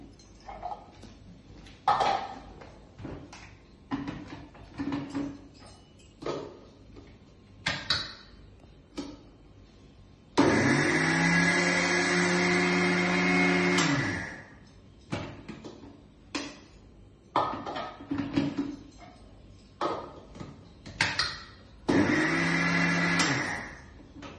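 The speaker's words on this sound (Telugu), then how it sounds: "ముందుగా ఓట్స్ పట్టేస్తున్నాను" A mixer grinder grinds oats with sesame seeds in two loud bursts, the first lasting about four seconds and the second shorter, with quiet handling clicks and knocks before, between and after them.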